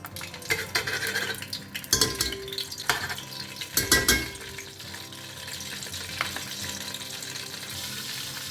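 Butter going into a pan of hot oil, with clinking spoon and pan knocks and a few louder stirring bursts over a steady low sizzle that carries on to the end; no talking.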